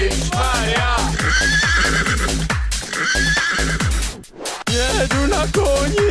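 A horse whinnies repeatedly on a horseback trek in the Beskydy mountains, heard over a loud rhythmic song with a steady thumping beat and a singing voice, briefly dipping before the music returns.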